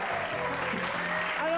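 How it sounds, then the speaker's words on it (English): A studio audience claps for a TV talent show, a dense steady wash of applause throughout, mixed with voices talking. "give them a big round of applause"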